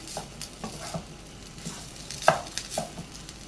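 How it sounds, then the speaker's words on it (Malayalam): Egg being stirred into butter garlic fried rice in a pan: a low crackling sizzle under scattered scrapes and taps of a spoon, a few sharper clicks standing out, close and fairly quiet with nobody talking. "നമ്മളിവിടെ തയ്യാറാക്കി വെച്ചിരിക്കുന്ന മുട്ട ഇതിലേക്ക് ചേർത്ത് മിക്സ് ചെയ്തെടുക്കാം. നല്ലതുപോലെ ഇളക്കി മിക്സ് ചെയ്യാം."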